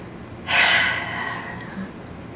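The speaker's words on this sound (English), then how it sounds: "let's take a deep breath" A single deep breath drawn in during a guided emotional freedom tapping session, a strong airy inhale that swells quickly and then eases off slowly, close to the microphone with no talking.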